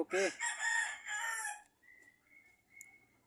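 Rooster crowing loudly up close, followed by fainter clucking and chirping from chickens nearby.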